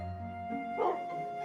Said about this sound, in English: see how they went back to just barking?